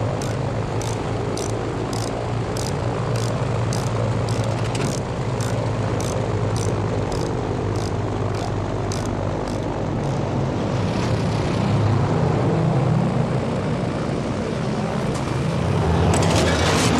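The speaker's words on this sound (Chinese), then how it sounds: "我要追那个飞机啊" Propeller aircraft engine droning steadily in the shooter game Battlefield 5, a loud continuous roar with a rapid series of clicking gunshot-like ticks over the first ten seconds.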